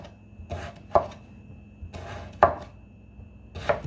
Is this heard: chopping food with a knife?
yes